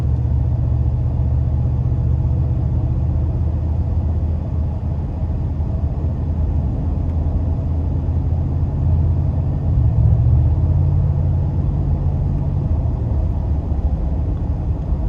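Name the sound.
2020 Mercedes-AMG G63 exhaust rumble while driving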